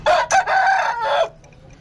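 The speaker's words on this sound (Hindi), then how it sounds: "मेरा सबसे प्यारा मुर्गा" An Aseel rooster crows once up close, loud and hoarse, its call broken into a short rising burst and a longer drawn-out note, then quiet.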